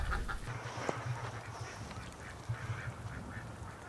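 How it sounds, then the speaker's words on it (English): Canada geese honking as a flock flies over a winter lake, a string of distinct honks rising and falling against steady outdoor ambience, moderately close then fading. "It was geese that just flew over, Doug."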